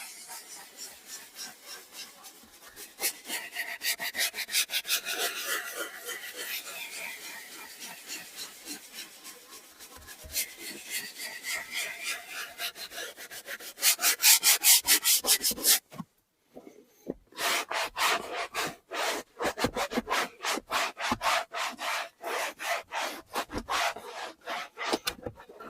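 A brush scrubs a surface coated in foaming cleaner from a foam sprayer, a steady close rasping rub in repeated strokes that turns quicker and sharper toward the end, briefly pausing midway.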